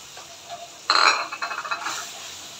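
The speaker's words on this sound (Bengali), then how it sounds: "আমি একটু মশলাটা কষিয়ে নেব" Spice paste for a thin rohu fish curry sautéing in a pan, a sudden loud sizzle at first contact followed by a run of scraping stirring strokes, close and without talk.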